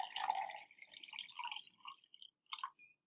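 Water poured from one cylinder-shaped container into a narrower one: a faint, close trickle with soft drips and small splashes over about three seconds, ending in a couple of brief sloshing bursts.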